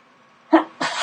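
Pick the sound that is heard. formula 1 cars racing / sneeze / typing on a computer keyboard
sneeze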